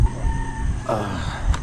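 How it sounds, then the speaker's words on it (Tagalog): A rooster crows once, close and loud, in a short rough call over low background rumble, and no one speaks. "Manok."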